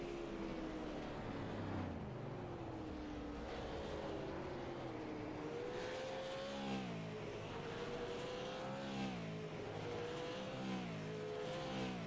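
Race cars run single-car qualifying at Southern National for the All Star Clash, their engines rising and falling in pitch as they pass, with steady revving and gear changes at moderate distance and no voices.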